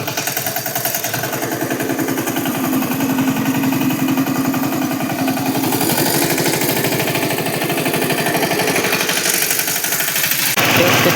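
A tractor engine runs steadily and loudly close by, its fast rhythmic diesel chugging holding on with little change before a slight shift near the end.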